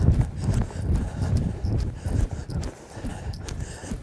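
Ridden horse walking in a riding lesson, hooves clip-clopping in a steady, fairly close rhythm over a low background rumble, with no talk.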